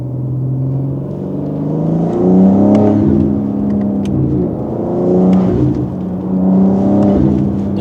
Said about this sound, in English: The intakes literally sound like a blow-off valve while you're driving.